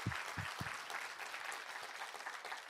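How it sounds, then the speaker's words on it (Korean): A church congregation at a Korean early-morning worship service claps in praise, a full, steady rush of many hands applauding together, with a few low thumps near the start. "우리 하나님께 감사와 영광의 박수 올려드리겠습니다."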